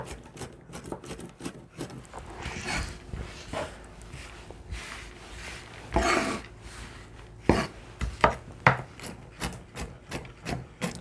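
Ingredients for a quail Christmas stuffing are chopped on a board with a knife, giving irregular close knocks and scraping strokes that grow sharper and more rapid toward the end, no talk.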